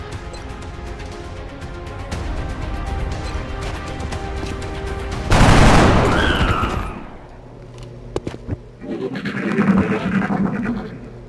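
Gunfire in XCOM: Enemy Unknown on iOS, a loud burst of rapid shots at mid-clip over a steady game soundscape, followed by scattered sharp impacts and rumbling effects.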